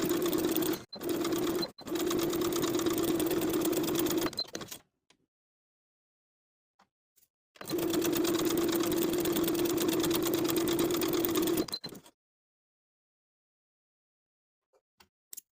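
A home sewing machine stitches the darts of a flutter-sleeve midi dress in two steady whirring runs of several seconds each, the first broken by brief stops, with quiet gaps in between.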